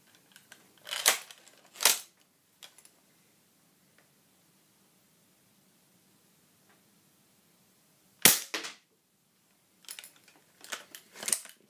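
Air rifle shots striking a computer hard disk drive: two sharp cracks close together, then a lone impact after a long quiet stretch, followed by a few more scattered hits, each short and loud against a near-silent background.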